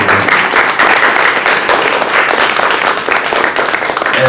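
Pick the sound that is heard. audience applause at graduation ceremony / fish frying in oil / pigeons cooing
audience applause at graduation ceremony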